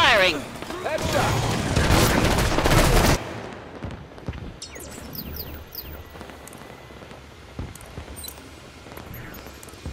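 Gunfire in Halo 5: Guardians Warzone combat, a loud sustained burst of rapid shots for a few seconds, then scattered fainter shots and impacts under game noise.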